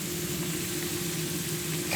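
Store-bought potato fries sizzle in hot oil for fish and chips, a steady, close frying hiss that holds even for the whole moment.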